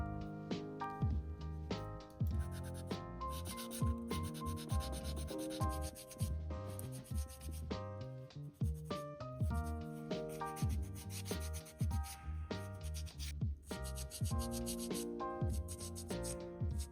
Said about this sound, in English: Then I took basically an entire day just to sand everything I sculpted down.